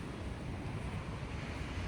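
Steady wind rushes and buffets the microphone at a beach in Da Nang, Vietnam, with the low roar of surf underneath and no voices.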